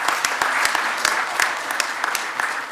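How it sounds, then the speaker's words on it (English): Steady, close applause from the audience at the CAF general assembly, a dense wash of clapping with sharper individual claps standing out throughout. "Can we clap hands for our brother?"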